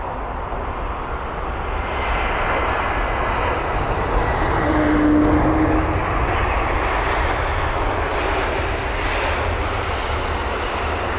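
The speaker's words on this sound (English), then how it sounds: "Here it is, the A320neo with sunshades" An Austrian Airlines Airbus A320neo passes by at Heathrow with a steady, loud jet roar that swells slightly around the middle and holds broad and continuous throughout, with no voices over it.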